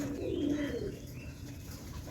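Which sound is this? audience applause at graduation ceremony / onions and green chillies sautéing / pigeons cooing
pigeons cooing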